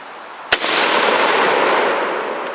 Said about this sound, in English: Right now, what I'm doing is I'm shooting a 300-yard target